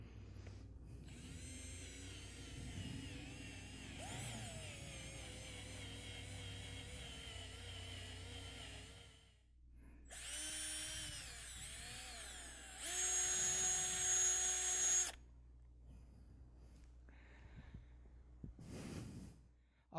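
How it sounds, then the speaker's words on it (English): A power drill bores through a homemade walker frame in a long, steady whirring run, then stops and restarts in shorter high-pitched bursts, with clattering handling noises between. "I'm turning it over where I can get a better angle at drilling"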